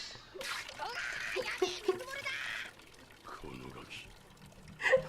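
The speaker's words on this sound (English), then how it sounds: "Where is the water leaking from?" Water pouring and leaking in a One Piece anime episode, trickling and splashing under cartoon voices and a reacting viewer talking over it.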